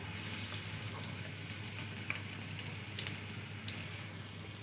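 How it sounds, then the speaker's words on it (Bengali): Green chillies and onions sizzle steadily in a pan for Bengali mung-masoor bhuna khichuri, a soft continuous frying hiss with a few faint pops and crackles, no voices. "কাঁচামরিচ এবং পেঁয়াজগুলো একটু ভাজা ভাজা করে নিতে হবে।"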